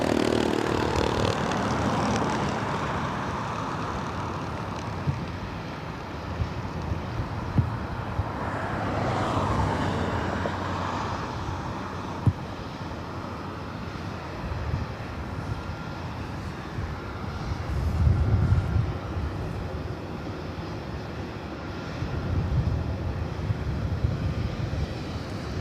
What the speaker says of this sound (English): Next arrival is Southwest Airlines Flight 5121, coming in from Phoenix, Arizona